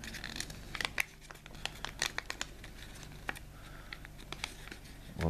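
Origami paper is folded and gently pressed while shaping a star-shaped box, a close, quiet run of crisp crinkles and small sharp rustles in irregular bursts.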